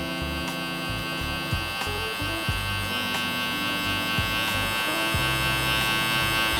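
Electric hair trimmer buzzing steadily and close while cutting hair on a self-cut taper, a continuous electric hum with small shifts as the blade moves through hair, no talking.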